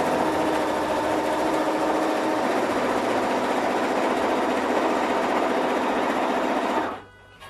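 A sewing machine runs in one loud, continuous burst while stitching a satin floral patch cushion. Its rapid mechanical whir stays steady, then stops abruptly near the end.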